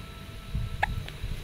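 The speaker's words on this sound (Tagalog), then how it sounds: "Sinisinok naman po yung aking batang kasama." A young child hiccups once, a single short sharp squeak, close but fairly soft over steady outdoor background noise and low rumble.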